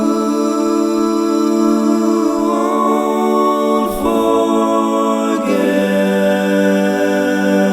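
Layered vocal harmonies sung with reverb form a loud, smooth sustained chord that shifts through a few changes, with a wash of ambience blurring each transition.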